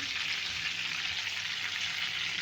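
Whole spices, bay leaf, cloves and peppercorns, fry in hot oil and butter with a continuous, even crackling sizzle, steady and moderately quiet throughout, with no voices.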